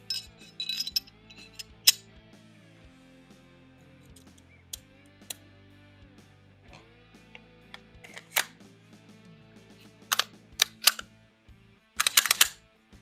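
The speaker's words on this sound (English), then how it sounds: "So I'll go ahead and reassemble the gun" Metal parts of a Springfield Echelon pistol click and snap sharply during reassembly, a few scattered close clicks over a quiet background, with a cluster of rapid clicks near the end.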